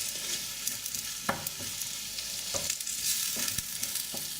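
Pork vindaloo ingredients sweating down in a pan, hissing with a steady close sizzle, broken by occasional scraping stirs.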